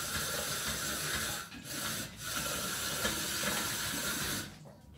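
A Saladmaster machine with a hopper slices vegetables, giving a steady, loud whirring hiss that briefly dips twice and cuts off near the end, with no talking.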